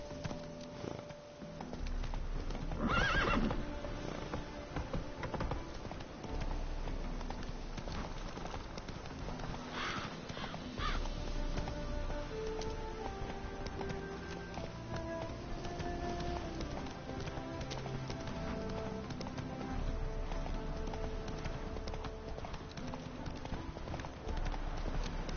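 Galloping hooves of a horse in The Witcher 3, a steady clip-clop rhythm running continuously under game music and ambient sound, moderately loud throughout.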